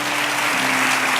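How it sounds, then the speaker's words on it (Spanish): Church congregation applauding the Lord after a sermon, a dense, steady wash of clapping from many hands filling the whole moment, close and loud. "Voy a dar un aplauso al Señor."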